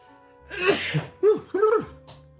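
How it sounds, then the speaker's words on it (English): A single loud sneeze with a sharp inhaled build-up, followed by two shorter sneezes or gasping bursts, close to the listener in a quiet room. "Oh, I gotta sneeze."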